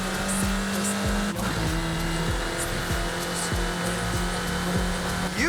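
A Forza Horizon 5 car takes corners at speed, engine revving in quick rising pulls between rapid gear shifts while tires squeal through the turns, loud and close with no talking.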